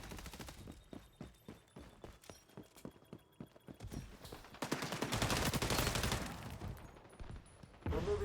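Gunfire in the XDefiant first-person shooter, starting as a string of separate cracking shots and building into a dense, sustained rattle of automatic fire with game effects around it.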